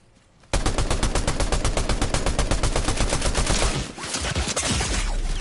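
Rapid automatic gunfire in the Fortnite video game, a dense sustained burst of shots starting abruptly and continuing for several seconds with a brief dip near the end, loud and close with no talk.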